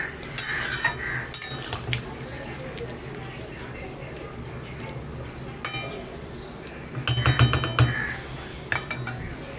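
Potol chingri, a Bengali pointed gourd and prawn mixture, being stirred into water in a pot: metal spoon clinks and scrapes against the pot in bursts, with a voice talking over it.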